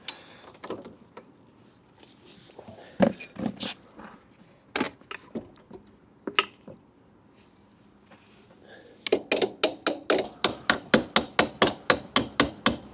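Metal tapping while an axle is pressed into its hole on a Honda CB125F motorcycle: scattered irregular knocks at first, then a fast, evenly spaced run of sharp, close hammer strikes.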